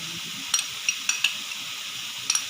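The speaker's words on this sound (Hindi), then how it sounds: "अदरक लहसुन का पेस्ट भी साथ ही इसके फ्राई करेंगे अच्छी तरह" Steady, close frying sizzle of garlic-ginger paste in a pan, broken by several sharp scrapes and taps of a utensil stirring against the metal.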